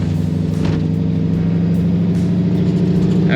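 A hot rod car engine drones steadily and loudly during a slow drive, a low mid-pitched rumble with harmonic hum throughout and no voices.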